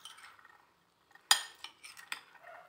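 A spoon mixes black chana chaat with tamarind pulp in a dish: a sharp clink against the dish, then a few softer scraping, stirring knocks, close by with no talking.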